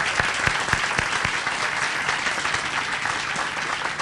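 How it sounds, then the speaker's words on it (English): A crowd applauds the Senate President at an outdoor War of 1812 monument ceremony, a dense, steady clapping that holds loud and even throughout with a few sharper individual claps standing out near the start. "Can we give the Senate President a round of applause, please?"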